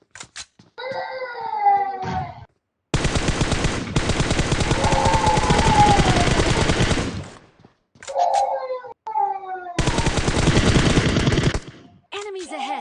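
Automatic gunfire in the video game PUBG comes in long, loud, rapid bursts, with excited voices shouting in the gaps between the volleys.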